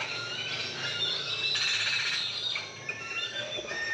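Birds chirp and call from trees in a town in Flores, Guatemala, a dense, busy layer of overlapping high tweets filling the whole stretch at steady loudness with no talking.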